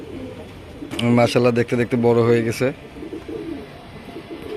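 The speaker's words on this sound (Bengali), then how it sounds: "এই যে আমার কবুতরগুলো" Pet pigeons coo in a loft in a burst of soft, throaty, repeated calls lasting about two seconds, close and fairly loud, with someone speaking over them.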